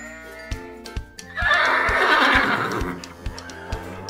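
A horse gives a loud, drawn-out neigh mid-way, a shrill whinny rising and falling over about a second and a half, set among sparse, evenly spaced knocks resembling clip-clop hoofbeats.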